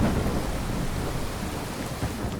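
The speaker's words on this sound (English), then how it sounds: "This is rain in the glowing sea. This is a radiation storm, and this is what we're dealing with." Steady heavy rain with a continuous rumble of thunder fills a radiation storm in the Glowing Sea in modded Fallout 4, a dense, unbroken roar with no voices.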